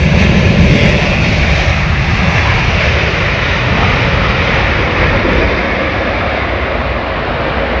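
Airliner landing at London Heathrow, a loud continuous jet engine roar that starts strong and gradually eases as it rolls out, with no voices.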